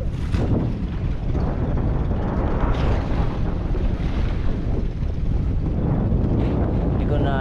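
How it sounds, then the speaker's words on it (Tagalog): Strong wind roars across a boat at sea, with steady broadband buffeting against the microphone and rough water noise; a voice speaks underneath. "Abot na pa kami ng malakas na hangin."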